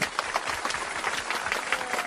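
A small group claps briefly during a song-guessing game, a light, scattered burst of hand claps that runs steadily for about two seconds.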